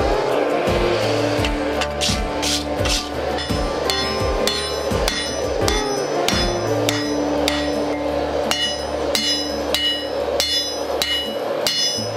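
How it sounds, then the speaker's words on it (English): Heavy hammer blows ring out in a steady, rhythmic series on hot steel at a forge while making a battle axe, loud and close, with sharp metallic clangs between strikes. "That hammer gets heavy after swinging it for so long."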